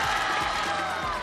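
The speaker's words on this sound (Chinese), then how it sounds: "大家掌声欢迎" A studio audience applauds and cheers to welcome a talk-show guest, a short burst of crowd noise mixed with a sustained musical tone.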